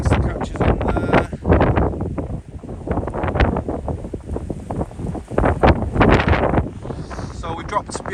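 Strong gusty wind buffets the microphone on a seaside walk toward Rossall Point beside a golf course, loud rumbling blasts rising and falling while a person talks.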